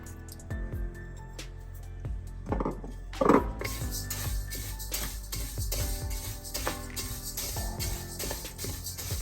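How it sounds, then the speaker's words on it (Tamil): Fennel seeds dry-roast in a pan for homemade Jaffna curry powder, with a spoon repeatedly clinking and scraping against the metal. The seeds rattle lightly in an irregular rhythm, close by and moderately loud. "நான் பெருஞ்சீரகத்தை போட்டு வறுக்க போகிறேன்"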